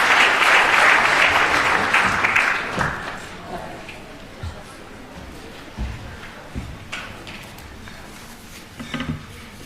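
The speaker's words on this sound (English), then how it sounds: "Give him a round of applause" An event audience applauds a speaker coming up, dense clapping loud at first that fades within about three seconds, followed by scattered thumps, footsteps and handling noises in the room.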